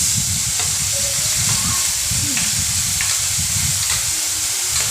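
Spice paste for aloo potol curry sizzles loudly in hot oil, a dense continuous frying hiss close up, with the low scrape of stirring running underneath throughout.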